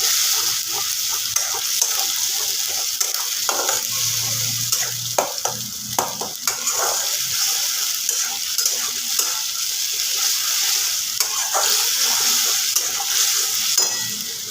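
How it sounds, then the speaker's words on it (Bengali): Spice paste for a katla fish kalia being stirred and fried in a pan: a steady close sizzle broken by repeated scraping strokes of the spoon, with no talking. "এবার আমি মশলাটাকে খুব ভালোভাবে নেড়ে চেড়ে ভাজা ভাজা করে নেব"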